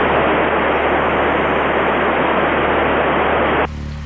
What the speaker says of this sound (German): Außer einem Rauschen ist nichts zu hören.